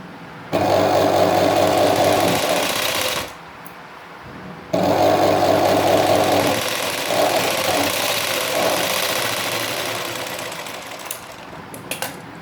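A sewing machine double-stitching a blouse runs in two loud, close bursts of rapid whirring, separated by a short pause, followed by quieter handling noises.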